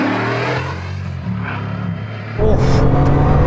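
Bugatti Chiron Pur Sport driving hard on a race track, engine note holding steady from inside the car and then surging louder as it accelerates near the end.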